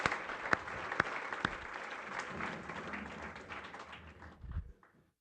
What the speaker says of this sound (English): Let's give Mike another round of applause.